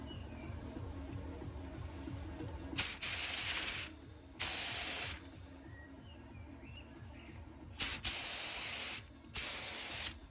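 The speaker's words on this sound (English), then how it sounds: "Could have done with a bigger spray pattern than that." A spray gun lays primer onto a fibreglass car bumper in four separate close, loud hissing passes, each lasting about a second with short quiet gaps between them.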